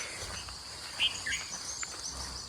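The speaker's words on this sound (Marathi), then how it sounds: "पक्ष्यांचा आवाज देखील येतोय" Steady high chirring of crickets throughout a village morning beside rice paddy fields, with a couple of brief, sharp bird calls cutting through near the middle.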